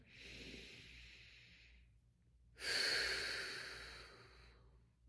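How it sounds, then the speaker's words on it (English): Two deep, slow breaths during a self massage, each a long airy hiss; the second starts sharply and louder, then tapers off, with a short quiet pause between. "just focus on deep breathing into the pressure"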